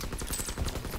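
Rapid gunfire from a Call of Duty: WWII multiplayer match, dense bursts of automatic shots rattling continuously throughout at moderate loudness, with no talk.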